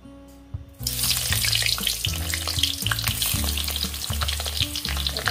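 Long eggplant drops into hot oil in a wok, bursting into a loud, steady sizzle with bubbling and stirring clatter throughout.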